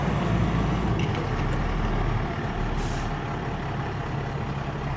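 Service truck with air brakes pulling away on a farm, a steady loud engine rumble with a brief hiss of released air partway through.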